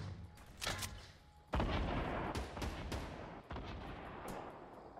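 Gunfire in Fortnite Battle Royale comes as a series of loud cracks and booming shots with dense rattling bursts after about 1.5 seconds. The shots ring out close and heavy, with short gaps between volleys. No one speaks.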